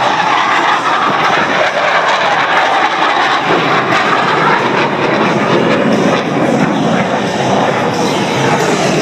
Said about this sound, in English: our 2 solo pilots have turned their smoke on as they commence their approach for the first of their opposing maneuvers